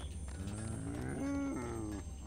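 A cow in the Toy Story 3 video game gives a drawn-out, rising moo that holds loud and steady in the middle, over a dense game soundtrack.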